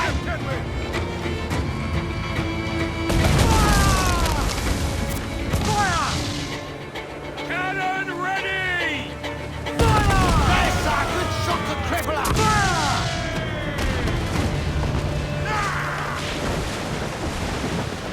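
Ship cannons fire in Assassin's Creed IV Black Flag naval combat. Heavy booms hit at several points over a busy battle bed with shouting crew voices and swooping sounds.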